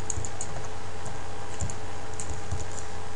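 Scattered computer keyboard key presses tap out during 3ds Max modeling work, a few light irregular clicks over a steady low hum.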